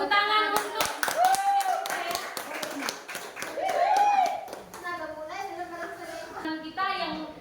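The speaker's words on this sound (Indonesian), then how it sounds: "Oke, tepuk tangan untuk" A group claps hands at a school activity, a dense burst of sharp claps that swells, eases and rises again, with children's voices and chatter mixed in throughout.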